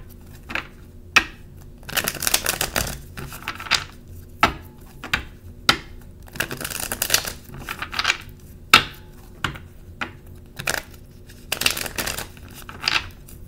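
Tarot cards shuffled and handled, giving a run of crisp riffling bursts and sharp slaps at an irregular rhythm, close and fairly loud with no talking.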